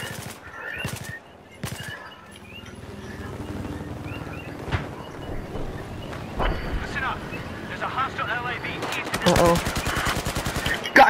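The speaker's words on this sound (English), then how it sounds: "I don't know why I'm shooting, I'm just shooting for fun." Automatic gunfire in the shooter video game Battlefield 4, rapid bursts of shots near the start and a long heavy burst near the end, over rumbling background game noise with speech at times.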